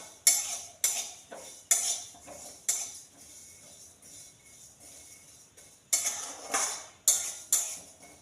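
Spices dry-roasting in a pan for a plum pickle, stirred with a metal spoon that scrapes and clinks in bursts of rapid strokes, with a quieter pause midway.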